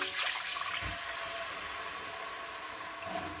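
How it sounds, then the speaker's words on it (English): Water pours into a cooking pot for a mango chutney chicken curry, a steady close rushing splash with a couple of brief heavier gushes. "I'm just going to add the water."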